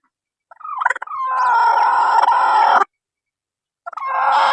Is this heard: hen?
yes